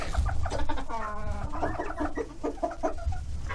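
Chickens and a young rooster cluck in a family poultry coop, with soft, close, overlapping clucks and calls filling the whole short stretch.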